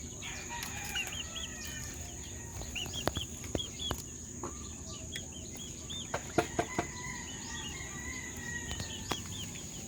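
Young Bulik chicks peeping in rapid high chirps, with hens clucking nearby and occasional sharp taps, a steady close chorus of poultry sounds throughout.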